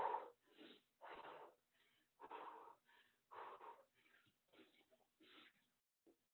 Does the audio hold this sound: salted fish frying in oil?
no